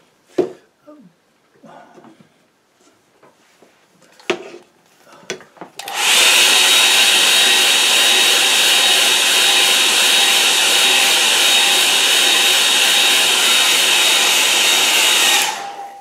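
Hair dryer drying a watercolour painting: after a few quiet brush taps and movements, a loud steady blowing whir runs continuously for about ten seconds before switching off.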